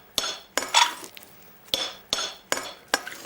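A large spoon folds egg white into marmalade in a bowl, making a run of sharp clinks and taps against the bowl in an irregular rhythm, close and fairly clear.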